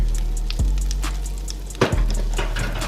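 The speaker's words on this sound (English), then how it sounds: "I got my 2 tablespoons of flour right here. I want to go ahead and get that dropped in there." Two tablespoons of flour hit hot oil for a crawfish étouffée roux and set off a steady, close hiss of sizzling, with a couple of soft stirring knocks.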